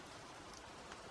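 Steady rain falls in a dark horror soundscape, a soft, even wash of drops at low level with no talk.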